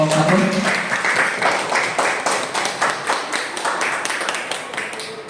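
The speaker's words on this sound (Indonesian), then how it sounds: "Beri tepuk tangan untuk kelompok 1." An audience at an Indonesian teachers' sharing session claps for the first group's presentation, a moderate round of many hands that stays fairly steady and fades slightly toward the end.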